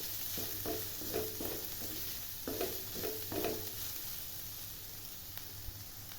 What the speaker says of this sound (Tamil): அடுப்பை சிம்பில் வச்சு நல்லா பொறுமையாக நல்லா பொன்னரமாக வறுத்து எடுத்துக்கலாம்